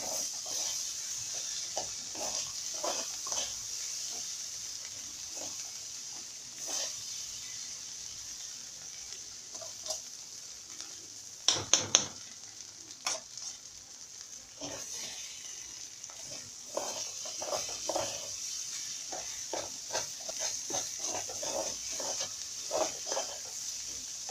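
Faint sizzling fills the background while a utensil scrapes and stirs intermittently as food sautés in a pot for Alexandrian koshari, with a brief cluster of louder clinks midway; no one speaks.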